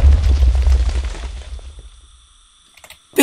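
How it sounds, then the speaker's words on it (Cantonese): A loud explosion booms in the modded Minecraft game, a heavy blast that rumbles and fades over a second or two, followed by a few faint clicks and a sharp new burst at the very end. "邊個爆炸？"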